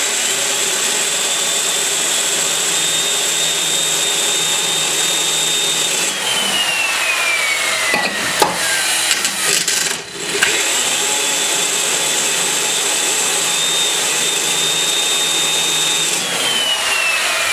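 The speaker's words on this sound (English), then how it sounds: "Hear me over here doing that grinding" Valve seats are ground with stones on a small-block Chevy ProComp 190cc cylinder head, a continuous loud, harsh grinding whine with a steady high tone that dips and shifts pitch as the stone works, close up.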